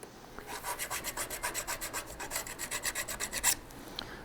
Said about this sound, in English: I've already done some preliminary filing on this fret